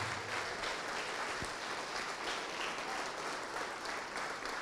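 Church congregation applauds in a steady, dense wash of clapping that continues evenly throughout, fairly distant and reverberant.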